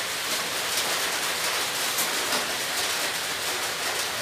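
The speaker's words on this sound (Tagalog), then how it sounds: "Umuulan pa rin, mga kamaster." Rain at a farm site falls as a steady, dense hiss, loud and constant with no voices over it.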